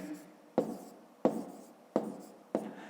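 Pen strokes scratch on paper as numbers are written by hand for a multiplication sum, four sharp taps each trailing into a short scratch, close and evenly spaced.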